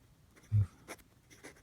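A fountain pen with a semi-flex nib scratches across Tomoe River paper in a few short, quiet strokes, with one soft low thump as the hand or pen touches down.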